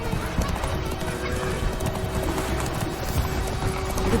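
Hooves of a horse in The Witcher 3: Wild Hunt clip-clopping in a quick steady rhythm, close and continuous over low game ambience with no voices.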